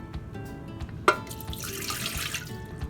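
Water pouring into a bread machine pot, a steady splashing trickle with a sharper splash near the start, close by and without speech.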